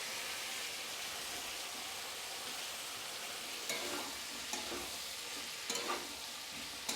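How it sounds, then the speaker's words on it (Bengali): Fried mixed vegetables are added to masala in a pan and stirred, producing a dense, constant sizzle with a few soft utensil knocks near the end and no one speaking. "দিয়ে দিচ্ছি ভেজে রাখা সমস্ত সবজি।"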